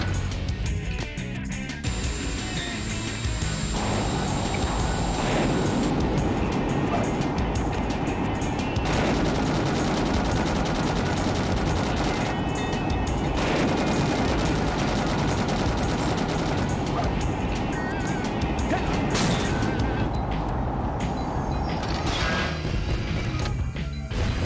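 Missile barrage in Sonic Adventure 2, a dense, continuous run of loud crashing explosions and rapid gunfire-like blasts that stays intense for the whole stretch, with no voices over it.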